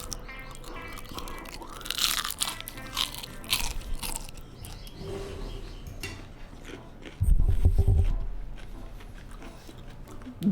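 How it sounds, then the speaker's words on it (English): Crunchy bites into a fried pork chop, crisp crackles and chewing repeating through the stretch, with a louder, bassier crunch burst near the end, close up and alone. "That's a good fry on that pork chop."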